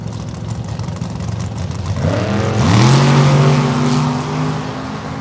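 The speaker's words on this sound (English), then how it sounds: "Little throttle womp down there at the top, and Aaron Rutledge for the win." Drag racing car at a dragstrip, first a steady engine roar that rises into a loud rising howl as it accelerates hard down the track, heard from the side without speech.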